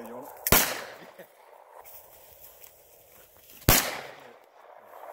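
Two sharp, loud 12 gauge shotgun blasts aimed at propane tanks outdoors, about three seconds apart, each followed by a brief echo, with faint rustling and movement in between.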